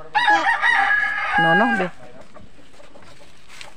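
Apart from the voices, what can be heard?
pet chickens being fed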